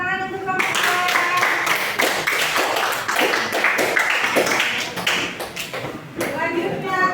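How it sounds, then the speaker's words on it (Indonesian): Classroom applause for a presenting student group during a lesson on heat transfer, a dense burst of many hands clapping close by and continuing steadily throughout, with voices faintly mixed in near the end. "tepuk tangan untuk kelompok saya"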